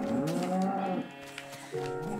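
A Minecraft cow moos in a long, wavering low call, then a second shorter moo follows after a brief pause, both close and clear with no talking.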